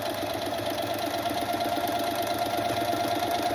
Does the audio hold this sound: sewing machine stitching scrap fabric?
yes